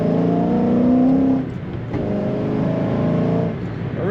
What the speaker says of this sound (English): A nice mean sound coming out the back of this car.